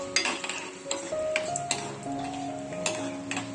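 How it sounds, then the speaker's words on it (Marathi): Dry fruits frying in hot ghee give a steady light sizzle, with tapping spoon-on-pan clicks scattered over it, close by and fairly quiet. "आता त्याच्यामध्ये आपण हे ड्रायफ्रूट्स टाकू, थोडेसे असे फ्राय करून घेऊ."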